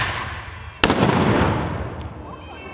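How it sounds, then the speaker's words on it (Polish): A black powder musket fires in a historical reenactment, one sharp loud crack followed by a long rumbling boom that fades over about two seconds outdoors. "Muszkieterowie podchodzą do przodu i strzelają."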